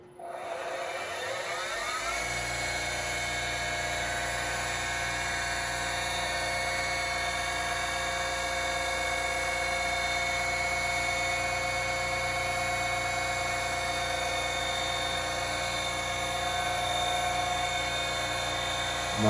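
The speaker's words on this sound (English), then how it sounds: "So now it's time to turn on the grinder." A grinder with a freshly dressed grinding wheel spins up after a brief start and then holds a steady, high-pitched whine, close and even throughout.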